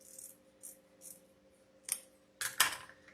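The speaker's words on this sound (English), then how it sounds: "I'm cutting off the bad splice because I don't like spliced ribbons" Scissors snip through wreath-making ribbon at a bad splice, with a few light, close snips in a row and then a louder, sharper cut near the end.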